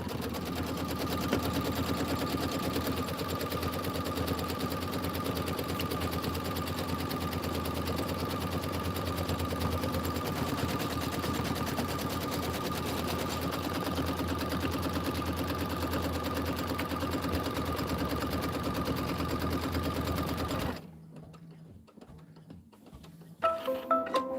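An embroidery sewing machine runs a tack-down stitch for a quilt block background, a steady, loud mechanical whir with a rapid chattering hum that continues unbroken for about twenty seconds, then stops abruptly, leaving quiet handling sounds.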